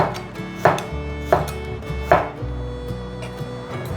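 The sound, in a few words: knife slicing ginger on a cutting board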